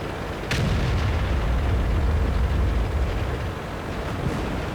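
A tank's main gun fires in a video game: one heavy, booming shot with a deep rumbling tail that fades over several seconds, with no talking.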